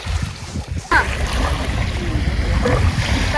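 Pacific Ocean surf washing onto the shore at White Rock, British Columbia, a steady close rush of water and wind with a louder surge near the start, and faint voices in the background.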